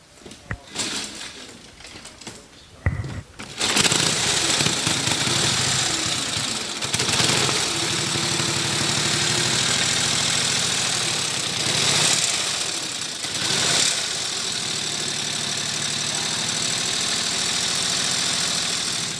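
A vintage motorcycle engine starts up and runs, a loud, steady idling rumble with a rough, knocking pulse that holds and surges slightly.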